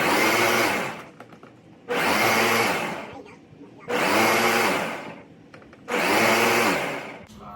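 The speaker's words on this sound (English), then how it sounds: "So I'm going to start blending this, and then I'm going to see if I need to add another 4 cups." A blender whirs through honeydew melon and cucumber in four loud pulsed bursts, each roaring for about a second with short quiet gaps between.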